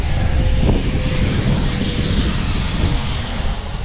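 Radio-controlled airplane with retractable landing gear and an electric motor on an 8S battery, flying past with a steady, loud whirring drone that holds throughout and fades slightly near the end, with no voices.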